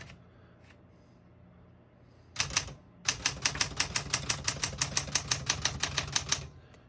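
Rapid mechanical keystrokes on a 1970 Smith-Corona Super Sterling portable typewriter, a short burst then a steady run of sharp clacks, close and crisp, with no talking.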